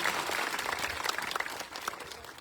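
A crowd at an outdoor political rally breaks into sustained applause, many hands clapping in a dense, fairly distant patter that fades slightly at the end.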